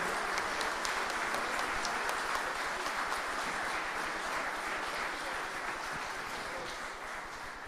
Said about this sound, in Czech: Zatleskejte jim